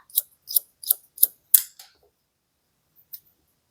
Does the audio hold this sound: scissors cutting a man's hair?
yes